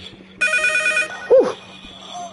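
A phone ringing in the Rec Room video game, one short bright electronic ring burst, loud and close, followed by a brief voice.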